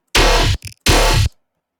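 Serum synth dubstep bass without its all-pass filter: two loud, gritty, distorted bass blasts separated by a short wobbling blip, then an abrupt cut to silence.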